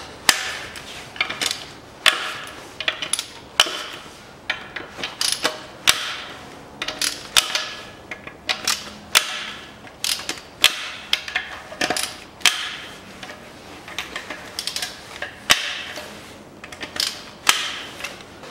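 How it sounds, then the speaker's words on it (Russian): Rapid, rhythmic ratcheting clicks from a wrench loosening the 12 mm bolts around the perimeter of a 2004 Mazda Demio 1.3 automatic transmission, sounding close and steady throughout with no talking. "по периметру откручиваю болты,"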